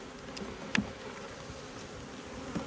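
Honeybees buzz steadily at a hive, a faint, continuous insect hum with a couple of brief louder knocks and no talking.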